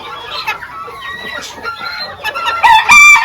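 Mini garnisé bantam hens clucking close by in a pen, with rapid overlapping chirpy clucks that build to a louder squawking call at the end.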